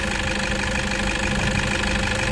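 The diesel engine of a 2015 Toyota Kijang Innova automatic idles steadily and loudly up close, with a constant rough knocking rumble that never changes.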